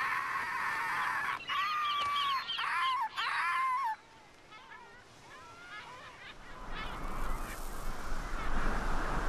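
Gulls attacking other birds give loud, harsh honking and squealing calls in several close bursts, then fade into a noisy wash of wind or water.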